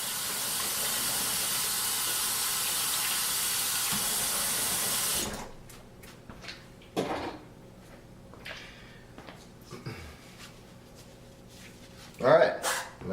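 A tap runs in a strong steady hiss while raw chicken wings are washed, then cuts off, followed by scattered clatters and handling sounds nearby.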